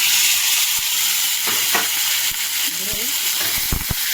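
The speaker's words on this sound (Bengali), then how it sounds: "এরপর আমি পেঁপে আলু ঢেলে দিলাম" Diced papaya and potato frying in hot oil tempered with cumin seeds, producing a loud, hissing sizzle throughout, punctuated by a few spatula knocks and stirs.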